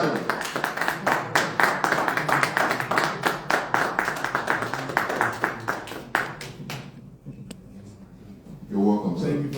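An audience at a meet and greet claps to welcome a guest, with sharp, irregular hand claps building to a dense stretch, then thinning out before a voice speaks near the end.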